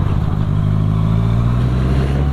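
A motorcycle engine drones steadily nearby, with a brief rattling jolt near the start as a wheel hits a pothole.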